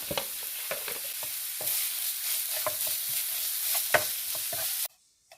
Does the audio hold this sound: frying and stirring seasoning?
yes